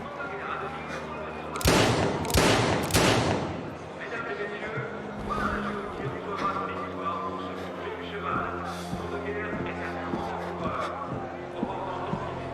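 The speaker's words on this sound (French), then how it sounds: "j'ai entendu des coups de feu" Three sharp, loud bangs in quick succession, followed by a lingering mix of engine hum and background noise.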